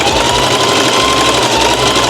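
A Singer sewing machine runs at a steady, fast mechanical whir with a buzzing motor hum and rhythmic needle chatter, loud and close throughout with no talking.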